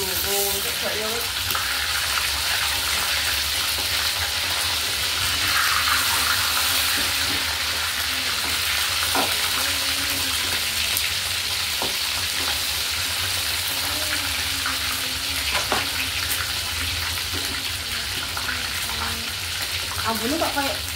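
Eggs fry in a pan with a steady, crackling sizzle over a long stretch, occasional stirring clinks and faint background voices in a home kitchen.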